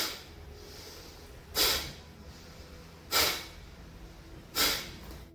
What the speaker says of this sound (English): start with about 15 to 20 short, sharp exhales through the nose